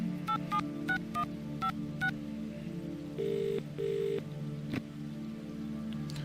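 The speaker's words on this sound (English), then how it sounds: "I'm going to call Mr. Morton on the phone" Telephone keypad dialing in a video game set in a Swedish apartment complex: a quick series of short electronic beeps, then two longer tones, clear and alone.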